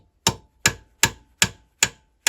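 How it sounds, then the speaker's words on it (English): A punch taps a water pump bearing out of a V12 American La France engine part held in a vise: six sharp metallic strikes at a steady, even pace, close and loud, each ringing briefly. "I'm going to tap it down with this punch down the centre of there"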